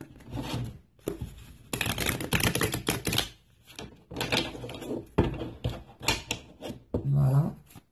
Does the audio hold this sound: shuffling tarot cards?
yes